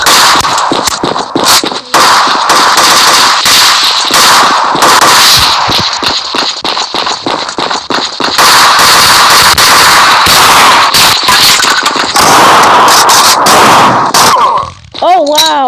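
Shotgun fire in a video game: loud, rapid gunshots crack in dense, irregular bursts almost without pause, with voices talking over the action.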